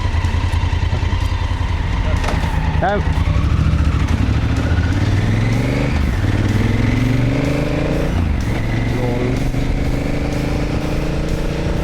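A motorcycle rides along a countryside road in Croatia, its engine loud and close throughout, rising and falling in pitch through repeated gear changes under constant wind rush.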